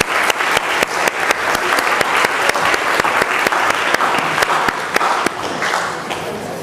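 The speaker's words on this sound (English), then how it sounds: "So just a big round of applause." An audience at a symposium gives a big round of applause, loud and continuous clapping from many hands with a strong, rhythmic beat running through it before it begins to thin out.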